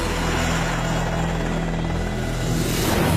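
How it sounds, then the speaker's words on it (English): A helicopter flies steadily and loud, its rotor drone and engine whine holding an even level throughout with no voices. "And here it is, the ultimate helicopter."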